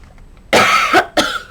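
Two sharp, close coughs from one person, a harsh burst followed shortly by a second, against near silence.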